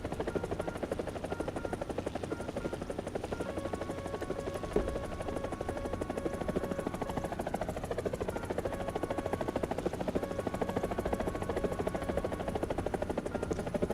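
Helicopter in a flight combat video game: a continuous, fast rotor chop with a steady engine whine, held at an even, moderate level throughout with no voices.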